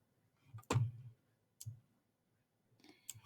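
Computer mouse clicks while working in an Excel spreadsheet: a few short, crisp clicks separated by quiet gaps, close and fairly soft.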